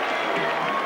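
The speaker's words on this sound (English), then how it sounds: "this fellow milks the applause from the crowd" A boxing arena crowd applauds and cheers a fighter at the finish of the Sugar Ray Leonard versus Donny Lalonde bout, a dense, steady wash of distant clapping and crowd roar.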